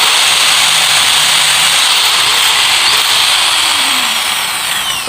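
A Makita 9556HP 4-inch angle grinder, just fitted with a repaired switch, runs at a steady, loud, high-pitched whine for several seconds, close by and alone, with a faint shift near the end.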